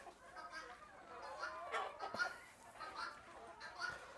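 Country chickens and broiler chickens kept at a poultry shop cluck and call softly in a steady, moderately distant chorus, with small scattered sounds of movement around them.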